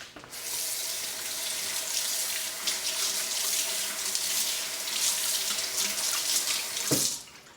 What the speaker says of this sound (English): Now we rinse.